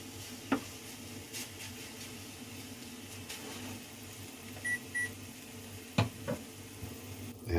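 Ramen noodles fry in a hot pan and are spread around, a faint steady sizzle with occasional scraping clicks and a couple of short beeps, quiet and without talk.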